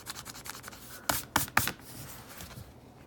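A Pilot Frixion erasable marker's ink is being rubbed away with firm, scratchy strokes: a few soft passes, then three louder, distinct bursts of friction close by, with no talk.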